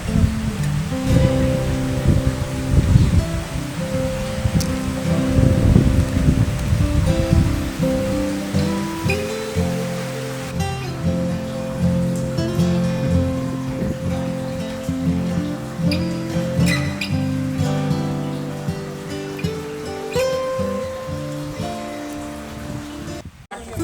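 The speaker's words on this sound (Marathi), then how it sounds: "पाऊस खूप जोऱ्याचा चालू झालेला आहे" Heavy rain pours outside the Ghatotkacha rock-cut caves near Sillod: a dense, steady wash of falling water that holds level for the whole stretch, with a brief louder swell near the start and other tonal sounds mixed in.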